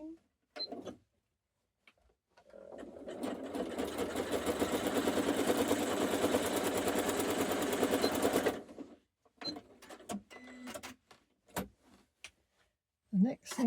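A sewing machine stitches a quilt binding seam in one continuous run of about six seconds, a fast, even mechanical whirr up close, framed by brief clicks and handling noises before and after.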